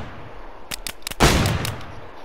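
Several gunshots from a video game crack out in quick succession, a few sharp separate reports followed by a louder, longer blast that rings out and fades.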